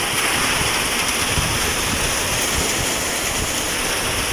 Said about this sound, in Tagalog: Grabe ang lakas ng ulan mga kaputak.